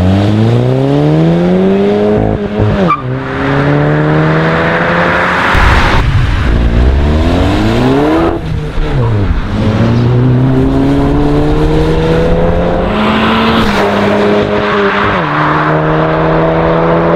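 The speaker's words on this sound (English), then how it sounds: "Also really important with the GTI, the exhaust sound." Exhaust note of a VW Golf 7 GTI Performance with 245 hp while driving, loud and continuous, rising through the revs in several runs with gear-change dips between them and no talk over it.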